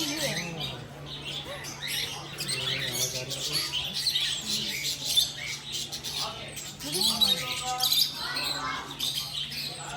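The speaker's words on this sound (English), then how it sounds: "Yeah, look at that bird." Birds at a pet sanctuary in Bangalore squawk and chirp repeatedly and loudly up close, with shrill overlapping calls and faint voices in the background.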